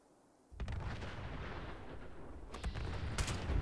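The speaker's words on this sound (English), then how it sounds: "I'm going to throw a grenade at them." Grenade blasts in the online game Fallout 76, heard as a sudden loud eruption of explosive noise that rumbles on for about three seconds, with a second burst near the end and no talking over it.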